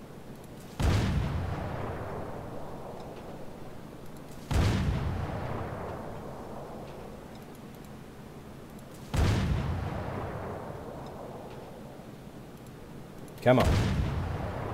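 Submarine deck gun firing in the U-boat game UBOAT: four heavy booms spaced about four seconds apart, each with a long decaying rumble, with a brief spoken word in between.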